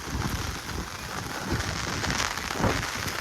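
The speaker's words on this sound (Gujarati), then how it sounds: "ફૂલ એટલે ફૂલ વરસાદ" Heavy rain pours steadily in Jamnagar during flooding, a dense continuous hiss of drops drumming on surfaces, loud and close throughout with no pauses and no one talking.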